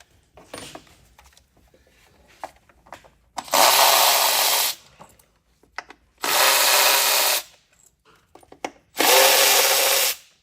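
Power tool whirring in three short bursts while removing ignition coil bolts from a Ford F-150 3.5L EcoBoost engine, loud and close, with faint clinks and handling noises between runs.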